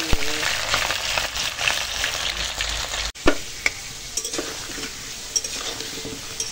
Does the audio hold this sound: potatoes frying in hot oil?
yes